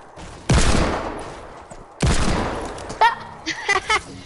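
Gunfire in a shooter video game: two loud, close bursts of rapid shots, then a few shorter sharp pops, with a voice talking briefly near the end.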